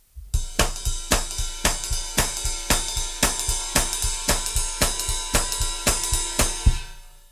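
A steady drum kit groove with a washy ride cymbal pattern and hi-hat accents on the backbeat, played at a medium tempo with close, even strokes and no voices.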